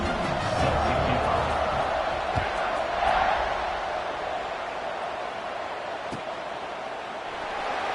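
Football stadium crowd at a Clemson–Baylor game roaring steadily through kickoff, a dense, continuous wash of cheering that swells slightly midway and stays loud throughout.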